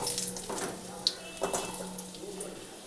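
Thinly sliced potatoes go into hot oil tempered with nigella seeds, giving a soft steady sizzle with a few brief splashy crackles, quiet and close, while someone talks over it.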